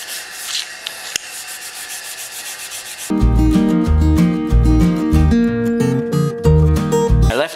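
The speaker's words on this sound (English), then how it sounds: "I'm gonna take a little of an abrasive pad. You can do this with a wire brush also." An abrasive pad scrubs a metal disc with a rough, rhythmic rubbing for about three seconds, then loud music with a steady beat takes over and mostly covers it.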